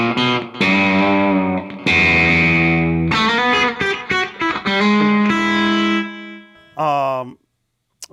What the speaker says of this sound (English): You can hear that slapback delay there.